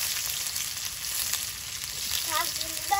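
Panch phoron spices, whole garlic and onion frying in hot oil, a soft continuous sizzle with faint crackle, fairly quiet, with a brief tonal clink or squeak near the end.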